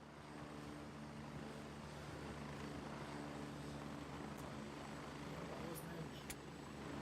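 A helicopter arriving in the military shooter game Gray Zone Warfare gives a low, steady rotor and engine drone that holds throughout and stays fairly quiet, with voices talking over it.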